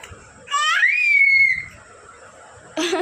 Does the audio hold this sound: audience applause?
no